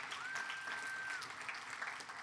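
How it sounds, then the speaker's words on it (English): Audience applause for event organizers at a carbon tax forum panel, a quiet, steady spread of clapping heard from a distance in a hall, with a faint tonal whine near the start. "If we could give them another round of applause,"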